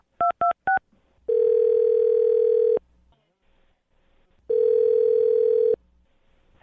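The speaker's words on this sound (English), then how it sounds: "I'm going to dial the phone number right now" Three short touch-tone keypad beeps followed by two long ringback tones separated by a pause, a landline-style call being placed to a radio morning show guest, clear and close with no talk.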